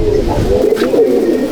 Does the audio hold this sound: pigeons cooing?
yes